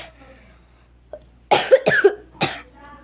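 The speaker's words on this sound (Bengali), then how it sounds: "প্রচুর কাশি হচ্ছে।" A person coughs three times in quick succession, loud and close, after a quiet stretch with a faint click.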